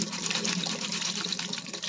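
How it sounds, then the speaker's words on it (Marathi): Tap water runs in a steady, unbroken rush over flattened rice (poha) being rinsed by hand, fairly close and with no talking. "आता हे पोहे नळाखाली स्वच्छ धुवून घ्यायचं आहे"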